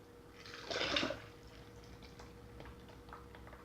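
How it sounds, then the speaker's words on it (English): Alginate is poured into a mould for a plaster hand cast, a brief soft wet pour and splash, followed by faint drips and quiet handling. "I'm going to pour that into our mould now"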